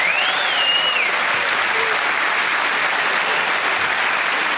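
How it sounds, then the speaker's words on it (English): An audience at a comedy show applauds with steady, dense clapping that fills the whole stretch at an even level. "round of applause for Natasha there."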